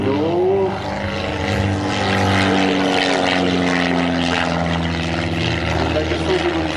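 A Christen aerobatic propeller plane rolling overhead, its engine a continuous loud, droning roar with shifting pitch, with someone speaking faintly beneath it.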